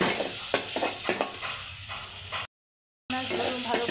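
Shrimp frying in a pan with chopped onion, garlic and green chilies with a little turmeric, giving a steady close sizzle with scraping stir strokes, broken by a brief silent gap midway.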